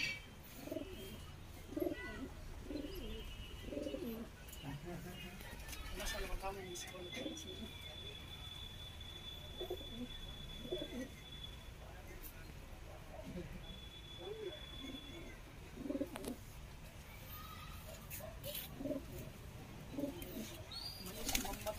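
Pigeons cooing in repeated soft, throaty phrases close by, with bird chirps and a few wing flaps in the background and occasional voices.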